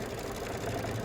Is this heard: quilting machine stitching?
yes